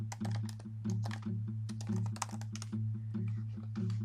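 Quick, even keystrokes on a computer keyboard, tapping out a search. The clicks are close and crisp, with a steady low hum underneath and no voice.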